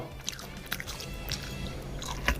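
Close, crisp crunching as someone bites and chews a very spicy crunchy snack, several sharp crackles in quick succession.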